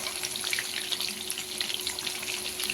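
Chicken 65 pieces fry in hot oil over medium heat, a bright crackling sizzle with dense popping, steady and close, while the pieces are turned over.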